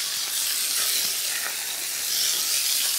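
Fresh rosemary sizzles in a hot frying pan alongside a lamb fillet, a steady bright crackling hiss that holds at an even level throughout, close and with no talking.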